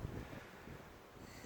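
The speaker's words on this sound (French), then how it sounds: "le vent se lève, il y a des bourrasques." Outdoors, a brief wind gust buffets the microphone with a low, rough rumble that swells at the start and then eases, quiet overall with no voices.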